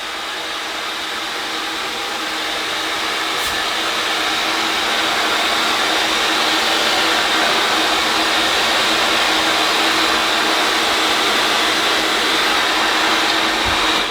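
Steady, loud hair dryer drone from a hair drying app, a continuous broadband whoosh holding unchanged for about fourteen seconds, close and unbroken, with no talking over it.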